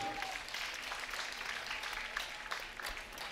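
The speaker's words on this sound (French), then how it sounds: "On l'applaudit encore très très fort, s'il vous plaît." An equestrian show jumping crowd at an elite final applauds a rider and horse, a steady, distant wash of clapping throughout that is moderately quiet.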